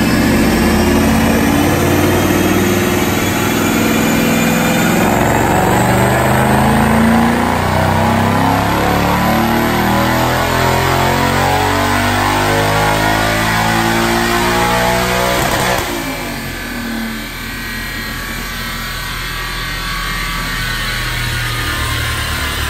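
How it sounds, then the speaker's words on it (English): A supercharged 2017 Ford Mustang S550 with a Brenspeed Stage 1 Paxton package roars on a dyno, its loud engine note climbing steadily through a long wide-open pull before abruptly dropping off near the end, with no talking. "I'm going to rip a dyno pull right now."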